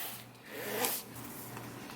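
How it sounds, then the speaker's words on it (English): A zipper slides open on a Mavic Air 2 drone carrying bag, one continuous close zip of about a second with soft rubbing around it, no talking. "It has one zip here."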